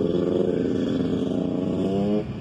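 KTM 85 dirt bike fitted with an FMF exhaust revs hard and close at Busco Beach, a steady high engine drone with rising pitch that cuts off sharply near the end.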